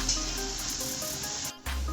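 Beans, potato, eggplant, pumpkin and papaya fry in a pan with a continuous close sizzle that briefly cuts out near the end before resuming.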